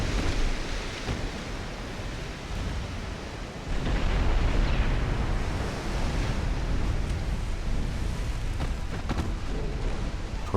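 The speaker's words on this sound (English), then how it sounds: "torpedo hits." Torpedo hits exploding against warships in a naval battle game set in the dreadnought era: a dense, continuous rumbling roar of blasts and churning water, loud throughout, swelling heavier around the middle.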